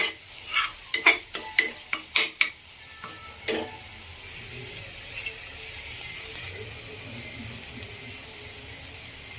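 Palak and onion curry frying in oil while being stirred, opening with a quick run of sharp, close scraping strokes against the pan, then settling into a steady, low sizzle with no talking.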